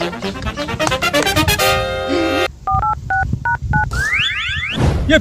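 A telephone number is dialed with a fast run of touch-tone beeps, followed by a few spaced dial tones and a rising electronic chirp, loud and close.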